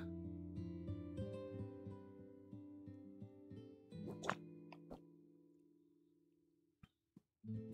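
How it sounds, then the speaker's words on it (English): A jade ornament in Genshin Impact gives off a watery sound: soft, distinct plops and drips sit over sustained musical tones, and a few last droplets fall after the music fades. "The ornament will also emit the sound of flowing water."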